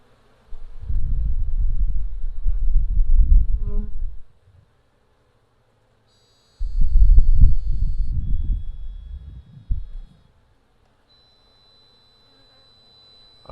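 Honey bees buzz around an open hive in two loud, close passes, each a few seconds long, separated by near silence.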